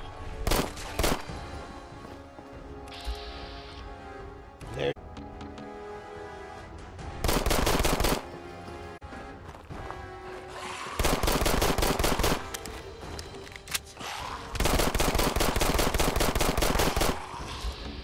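Automatic gunfire from a gun in the video game Fallout 4 comes in several loud, sustained bursts. Quieter stretches of rumble and scattered single shots fill the gaps between them.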